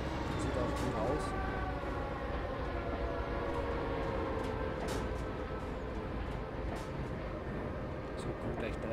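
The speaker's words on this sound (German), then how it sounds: "So, kommt gleich drei Züge auf einmal." Several trains run in the EEP railway simulator game: a steady, dense rolling rumble with sustained horn-like tones and clicking wheel noise throughout, while someone talks over it.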